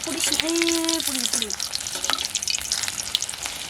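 Chili and vegetable fritters frying in hot oil, a steady broadband sizzle that runs throughout, with a brief tonal whine early on and light clinks and scrapes on top.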